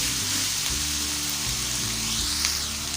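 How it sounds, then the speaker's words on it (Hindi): Vegetables and sausage for Singaporean rice sauté in a pan, giving a steady, close sizzling hiss that stays even throughout with no talking. "इसको थोड़ा सा सौते कर लेते हैं वेजीज को। उसके बाद मैं इसमें सॉसेज ऐड कर दूँगी।"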